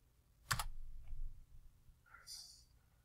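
A few keystrokes on a computer keyboard while entering values into an AutoCAD drawing: one sharp near click burst early, a faint tap after, then a softer clicking cluster near the end, with no talking.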